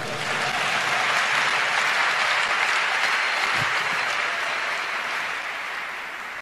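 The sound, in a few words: congregation applauding to acclaim the Lord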